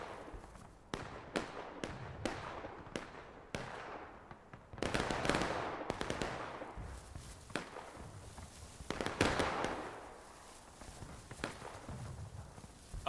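Musket volleys crack in War of Rights during a large 250-player Civil War battle, with sharp, distant pops, first in a quick uneven series, then scattered shots and a few louder bursts.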